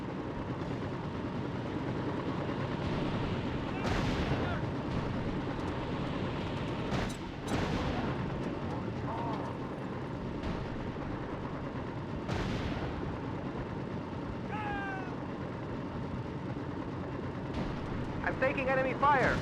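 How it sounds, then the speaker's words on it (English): Gunfire and explosive blasts from enemies in the Mercenaries 2 video game on PS2, dense and continuous, with repeated sharp bursts and booming impacts over a constant rumbling battle bed and brief radio-like chatter. "I'm taking enemy fire."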